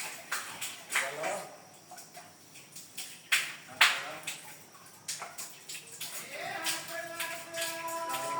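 A bucket of water drawn up from a well, with a run of uneven splashes, sloshes and knocks rising and falling at close range, and a voice briefly heard near the end.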